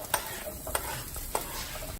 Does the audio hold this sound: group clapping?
no